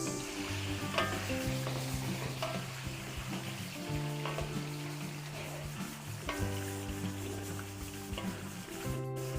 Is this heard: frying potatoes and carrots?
yes